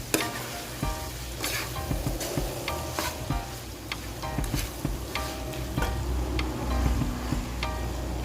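Pork tofu sisig being stirred in a sizzling pan, a continuous hot crackle under repeated scraping and clinking of a utensil, steady and close.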